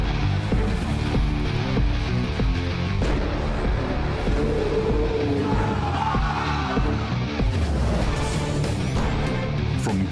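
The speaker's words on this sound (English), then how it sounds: "The roar of the crowd." A large crowd roars at a Dota tournament, The International 2014, a loud, dense, continuous wall of cheering and shouting that fills the whole stretch without letup.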